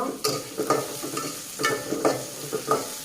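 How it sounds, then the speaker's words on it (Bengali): Sliced onion and cabbage frying in oil while being stirred, with soft sizzling under a series of rhythmic scraping stirs about every half second, close and fairly quiet with no talking. "পেঁয়াজটা ভালো করে একটু ভেজে নিই।"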